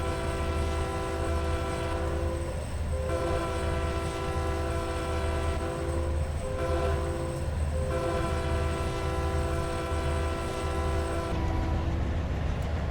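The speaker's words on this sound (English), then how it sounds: "So we'll just go ahead and sound the horn for you guys." A train horn sounds in Train Simulator 2019 on Cajon Pass, with several long blasts and brief breaks between them over the steady rumble of the moving train.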